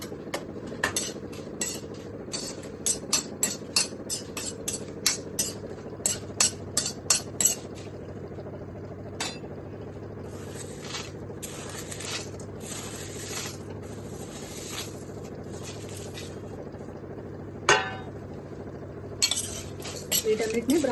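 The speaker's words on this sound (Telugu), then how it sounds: "ముందు ఎండుమిర్చి వేయించుకున్నాం." Dried red chillies fry in oil in a pan while a metal spatula stirs them, giving a run of sharp, regular clinks and scrapes against the pan. The clinks thin out later over a low frying hiss.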